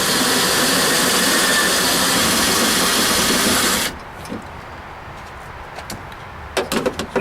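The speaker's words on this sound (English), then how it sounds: "you drill out the studs" A power drill bores out the door-panel studs on a 1987 Ford F150 during a power window motor replacement, giving a loud, steady whine for about four seconds before stopping, followed by a few faint clicks and knocks.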